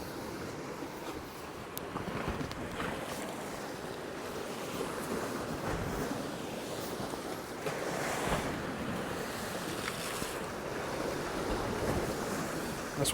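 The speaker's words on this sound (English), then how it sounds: "Now the water is splashing over the top of this one" Sea waves surging and splashing over new sea defences on the coast between Cromer and Overstrand, a loud continuous roar of surf with wind buffeting the microphone.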